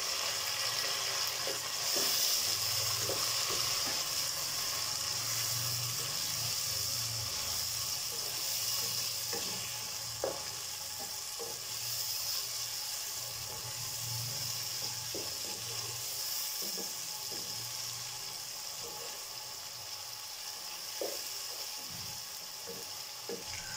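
Tomatoes frying with ginger and garlic in a pan for a gourd and chana dal recipe, a steady close sizzle with soft stirring and scraping clicks throughout, no talking.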